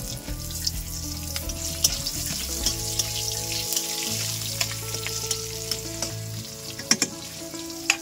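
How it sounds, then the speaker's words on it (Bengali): Cumin seeds and slit green chillies crackle and sizzle in hot oil left from frying fish, with scattered pops and spoon stirs over a steady frying hiss, close and alone. "এবার এই তেলে আমি দেবো একটু জিরে। আমি শাকে কোনো মশলা দেবো না, আর দেবো ওটা চেরা কাঁচা লঙ্কা।"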